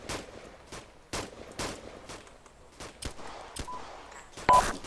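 Gunfire in the Arma 2 video game: sharp, fairly close shots in quick irregular bursts, loud and punchy, with a brief electronic beep near the end and no talk.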